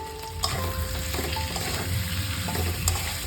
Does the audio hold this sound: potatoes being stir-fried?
yes